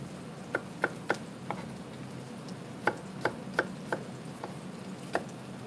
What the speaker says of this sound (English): We're going to be chopping more crab apple into that as we go.